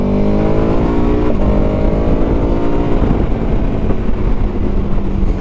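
A 2021 KTM 1290 Super Adventure S motorcycle engine pulling hard, loud and close, its pitch climbing steadily through one gear, dropping briefly at a shift, then rising again.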